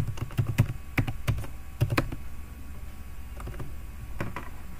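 Someone types a password on a computer keyboard: a quick cluster of close, crisp key clicks, a brief pause, another burst of taps, then a few scattered keystrokes over a low background hum.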